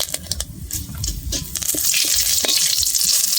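Bay leaves fry in hot oil close by with a loud sizzle. A spoon clatters in the pan early on, then the sound swells into a steady, dense hiss.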